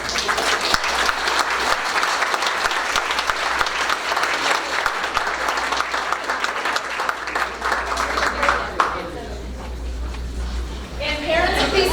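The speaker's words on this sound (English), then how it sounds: "Let's give all these students a round of applause." An audience at a school board meeting applauds a group of students. The clapping is sustained and fairly loud, then fades out near the end as a voice resumes.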